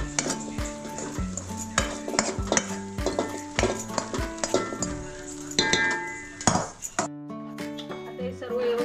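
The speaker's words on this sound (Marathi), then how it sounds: "आता हे सर्व व्यवस्थित मिक्स करून घेते" Sautéed vegetables for street-style veg fried rice being mixed in a large metal pot, with steady, repeated stirring, scraping and clinking of a spoon against the pot, close and fairly loud.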